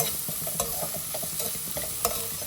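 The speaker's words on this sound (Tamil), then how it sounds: "இந்த உள்ளி கொஞ்சம் நல்லா வதங்கட்டும்" Onions sautéing in a pan for a breakfast upma make a dense, close sizzle with rhythmic scraping strokes of a stirring spoon and a few sharper knocks against the pan, with no one speaking.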